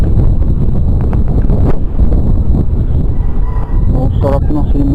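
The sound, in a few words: wind breeze outdoors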